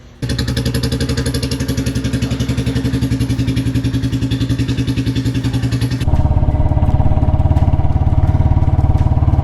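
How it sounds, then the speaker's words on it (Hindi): A Royal Enfield Classic 350 motorcycle engine runs loudly and steadily up close, its rapid rhythmic putter shifting to a deeper, heavier note partway through. "आवाज़ सुनो गाइस, लोग मुड़ मुड़ के देख रहे हैं मोटरसाइकिल को"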